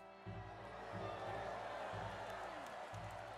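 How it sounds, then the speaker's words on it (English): A video game crowd roars with cheers and scattered applause, a steady wash of voices over a low rhythmic pulsing hum. "You hear cries of joy, a hum of approval, and applause."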